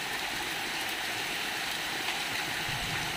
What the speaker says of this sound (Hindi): ये हो रही है झमाझम बारिश।